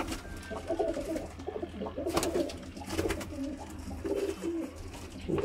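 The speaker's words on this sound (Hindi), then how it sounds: "ਵਲੈਤੀ ਨਹੀਂ, ਕਮਗਰ ਕਬੂਤਰ।" A Kamagar pigeon coos in soft, repeated rolling phrases close by, with faint background noise around the calls.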